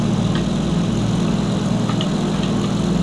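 A propeller aircraft engine in the IL-2 Flight Simulator video game drones steadily and loudly, a constant low engine hum alone with no talk over it.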